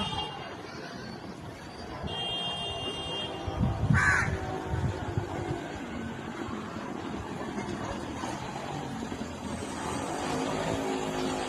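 A crow caws outdoors, one harsh call standing out near the middle over steady background noise that could be a passing vehicle or engine, with no voices.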